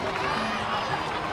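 A crowd applauds and cheers for a young warrior in the video game Genshin Impact, a brief, dense wash of clapping and voices at moderate volume.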